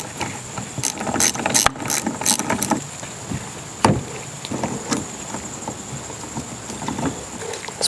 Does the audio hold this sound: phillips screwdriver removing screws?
yes